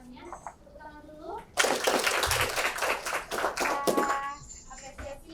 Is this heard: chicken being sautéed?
no